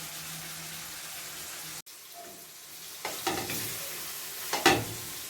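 Tomatoes frying in oil in a pan: a steady close sizzle runs throughout, with a brief dropout partway and a few louder crackles and stirring scrapes near the end.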